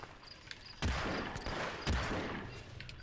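Two heavy gunshots ring out in Hitman: Absolution, spaced about a second apart, each a sharp broadband blast with a lingering tail over a steady background hum.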